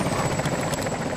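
A V-22 tiltrotor in the video game Arma 2 flying super low at an air show: a loud, steady rotor and engine drone with rhythmic blade chop, close by and unbroken for just over a second.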